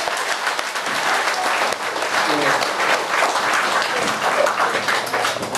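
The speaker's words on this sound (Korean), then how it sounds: "큰 박수 부탁드리겠습니다" Steady applause from an audience at an outdoor Buddhist gathering on Jirisan, with dense clapping that holds through the whole stretch and faint voices mixed in underneath.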